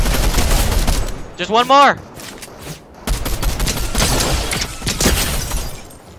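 Rapid, loud gunfire in Fortnite comes in dense bursts of sharp shots, with a brief pause in the middle. A voice talks over the shooting.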